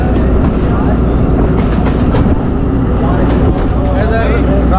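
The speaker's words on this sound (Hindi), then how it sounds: "साड़ी गड्डी ननकाना साहब स्टेशन पहुँच चुकी है।" Ravi Express passenger train rolling into Nankana Sahib station, a steady loud rumble of wheels and carriages with faint clatter, voices talking over the noise throughout.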